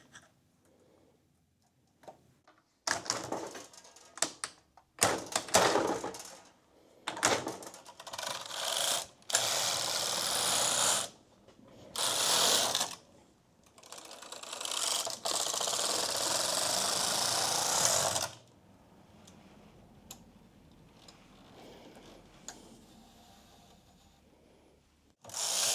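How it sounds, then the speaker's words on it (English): A knitting machine transfers stitches up to the top bed, a series of clattering, ratcheting mechanical passes and sliding carriage sweeps, loud and close, separated by short pauses, trailing off to quiet at the end. "The rest of this hat is knit on the top bed only, so I'm transferring all the stitches up"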